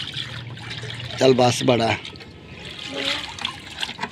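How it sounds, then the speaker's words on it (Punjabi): Water pours and splashes in an outdoor Punjabi household setting, with a brief rushing burst in the middle. Voices talk over it nearby. "ਚੱਲ ਪੁੱਤਰ ਨਵਾਂ ਪਾ ਹੁਣ ਪਾਣੀ"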